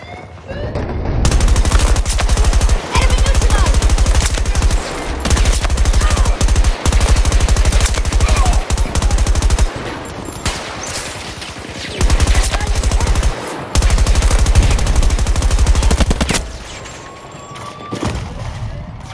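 Video game gunfire in dense, rapid automatic bursts separated by short pauses over nearly twenty seconds, loud and close, with occasional voices in the background.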